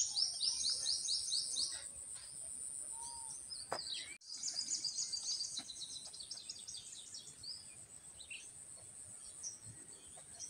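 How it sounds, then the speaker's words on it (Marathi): Several kinds of birds calling from trees outdoors, with rapid repeated high chirps and trills coming in bursts over a faint steady insect hum, moderately distant, no voices. "किती प्रकारचे पक्षी वरती छोटे मोठे असे हे उडताना ह्या झाडावरनं दिसतात"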